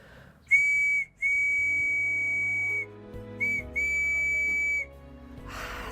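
A tiny wooden handmade whistle sounds close and piercing in several steady sustained tones. There is a long blast, a brief break, another long tone, then a short toot and a final held note.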